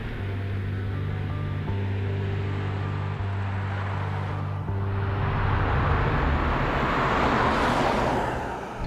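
A 2019 Subaru Forester's powertrain is heard from inside while driving, a low, smooth engine hum with steady tones under a rising wash of road and wind noise, with no one speaking.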